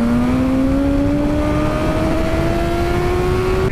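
A 2019 BMW S1000RR sport motorcycle engine, loud and close, revs steadily upward in pitch, a continuous rising drone with no pauses and no talking.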